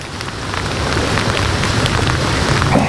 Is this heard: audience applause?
no